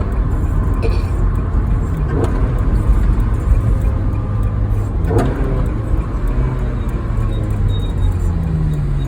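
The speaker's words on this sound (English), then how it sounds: "you get the induction noise, and that's when you really hear the flat plane crank" A sports car engine with a flat-plane crank roaring loudly and steadily from close up, a dense mechanical intake growl with slight rises in revs.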